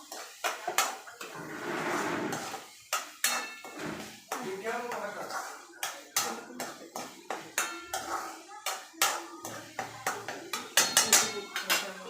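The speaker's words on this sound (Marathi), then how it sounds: "हा गरम मसाला आहे 2 चमचे, तो पण टाकूया. त्याला एकत्र हलवून घेऊया." Metal spoon clinking and scraping against a pan while cauliflower is stirred with garam masala for a wedding-style Marathi cauliflower dish; close, repeated uneven clanks and scrapes with no talk.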